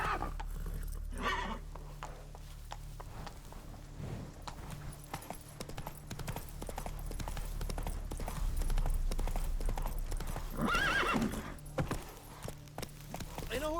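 A horse gallops in The Witcher 3 video game, with a rapid continuous clip-clop of hooves and a brief whinny near the end, heard up close over faint background ambience.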